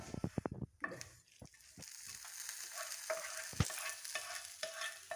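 Jackfruit erissery being stirred in a pan, with a few sharp scrapes and clanks of the spoon up front, then a steady low sizzle and soft stirring.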